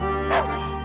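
A dog in the video game Baobab's Mausoleum gives a single short bark, loud and close over a steady tonal game hum.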